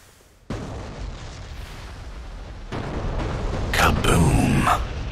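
An AGM-154 JSOW bomb detonates in an F/A-18C flight simulator game: a sudden loud blast followed by a sustained rumbling roar that swells again into a second heavier burst and lingering boom.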